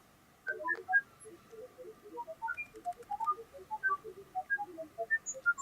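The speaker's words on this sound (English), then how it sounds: "So that's what the empty spectrometer sounds like." Individual pulses from an empty radiation spectrometer play as short electronic tones at varying pitches, scattered irregularly like random beeps, fairly close and alone without talking.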